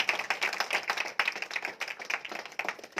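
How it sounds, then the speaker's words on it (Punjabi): A small group at a Christmas home prayer meeting in a village claps in thanks, with quick, fairly even handclaps from several people close by, a little uneven in rhythm and moderately loud. "ਖੁਸ਼ ਹੋ ਸਭ ਜਨ ਤਾੜੀਆਂ ਮਾਰ ਕੇ ਪ੍ਰਭੂ ਦਾ ਧੰਨਵਾਦ"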